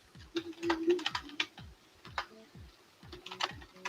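Rapid clacking of keys on a computer keyboard, close and fairly loud, in uneven bursts with brief pauses, a low rhythmic ticking underneath.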